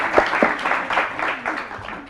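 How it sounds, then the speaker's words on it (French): An audience at a youth champions school event claps, with a few sharp, close claps at first and then a dense, steady wash of applause that fades toward the end. "Alors, on l'applaudit aussi."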